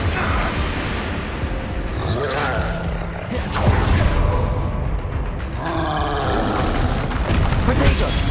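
Fire spell blasts in a fantasy wizard-school action game, booming bursts amid ongoing combat clamor, repeated several times over several seconds with rumbling low-end and crackling magical effects.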